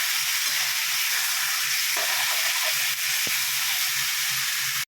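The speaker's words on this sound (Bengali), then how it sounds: "হাই ফ্লেমে 5 মিনিট ধরে ভালো করে নাড়াবেন।" Spices frying and being stirred in a pan over a high gas flame, a loud continuous sizzle with a few scraping stirs, close up and without talk.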